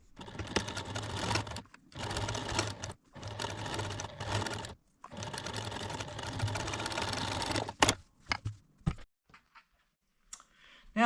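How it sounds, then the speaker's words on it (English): A sewing machine stitches a potholder seam in several close, steady bursts of rapid mechanical whirring with brief pauses between them, then a few soft handling clicks. "Now I'm going to go sew this seam."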